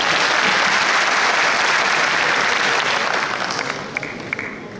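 Dense applause from a seated audience at a general assembly meeting, loud and sustained, then thinning toward the end.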